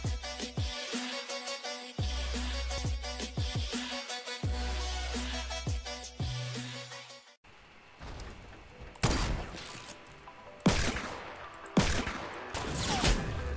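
Fortnite gunfire rattles in rapid bursts, first layered with music-like tones and sharp shots, then several loud, spaced single blasts and volleys ring out near and clear.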